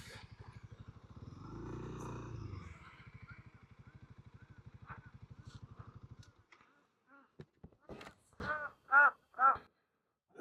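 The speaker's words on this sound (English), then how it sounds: "Ducks are talking to me." A low motorcycle engine rumble fades out, then several loud honking quacks from white and black ducks come in quick succession, close by at Pena Blanca Lake.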